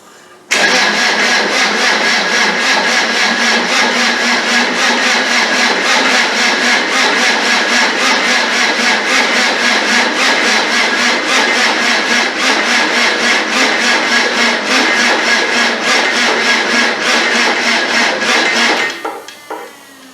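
A starter motor grinds a Land Rover 300Tdi diesel engine over in one long, unbroken crank of about eighteen seconds without the engine catching, loud and close, then cuts off abruptly.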